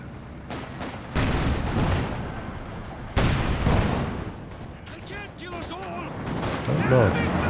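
Sustained battlefield gunfire in Company of Heroes 2, with dense rattling volleys, sharp shots and booming impacts layered together at loud, steady intensity while commentators talk over it.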